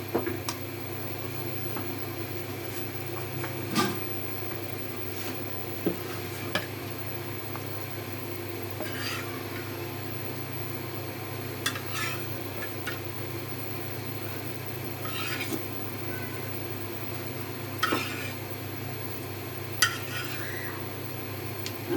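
Rui fish being added to a pan of simmering gravy and stirred, with a steady low bubbling hum and scattered scraping and clinking clicks of a spoon against the pan at intervals.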